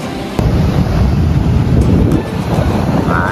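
Strong wind roars steadily into the microphone on the seashore at Shiriyazaki, a loud, unbroken blustery rush with surf mixed in underneath, no voices.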